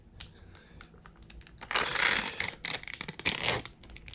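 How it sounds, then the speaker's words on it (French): A package of Mozuku seaweed being torn open, with crisp crinkling and rustling bursts of plastic up close that grow louder and busier midway, then settle into scattered crackles. Nobody speaks. "je vais ouvrir ce paquet"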